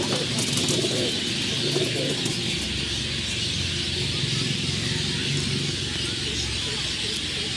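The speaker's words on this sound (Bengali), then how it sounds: "এই হচ্ছে পরবর্তী পায়রা ফ্যাক্টরি।" Pigeons coo continuously inside a pigeon loft, layered throaty calls and soft chirps close by against a dense, steady backdrop.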